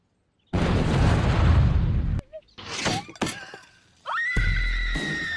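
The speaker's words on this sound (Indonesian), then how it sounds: "Seorang remaja bernama Brian terbunuh oleh pembakaran barbeque yang meledak." A barbecue grill blows up at a backyard party in a film scene: a loud, dense blast lasting about two seconds, then scattered crashes and debris, and a sharp rising scream that breaks into a sustained shriek.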